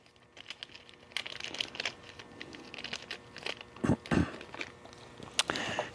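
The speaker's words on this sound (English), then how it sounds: "I'm going to go ahead and pull the air nipple out of the bag right now" A small air nipple fitting is pulled from a plastic parts bag, giving close, quiet crinkling and rustling with scattered light clicks and a couple of sharper crackles near the end, with no speech.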